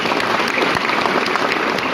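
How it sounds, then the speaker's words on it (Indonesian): Dense, steady audience applause at a halal bihalal gathering of a Nahdlatul Ulama branch in Sleman, many hands clapping together at an even level throughout. "Beri tepuk tangan."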